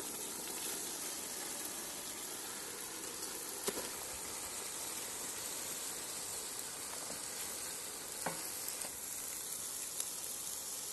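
Basmati rice fries in a kazan over a campfire for plov with Manchurian wapiti meat. A soft, steady hiss and sizzle runs throughout, with a few faint pops and crackles.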